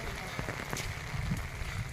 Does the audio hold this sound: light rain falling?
yes